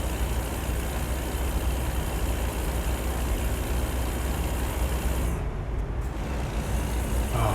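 A heavy truck engine in American Truck Simulator drones loudly and steadily at about 1200 RPM as it strains to haul a load, with no voices over it.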